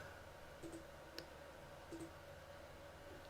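Mouse clicks while an admin saves user group settings in Cypher admin software, a few faint crisp ticks spaced apart over a quiet background hum.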